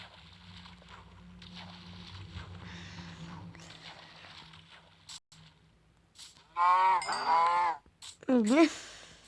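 Minecraft chickens give a few loud, close clucking calls near the end, after a stretch of quieter game background and faint voice-like sounds.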